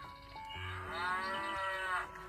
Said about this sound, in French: Premier animal, la vache.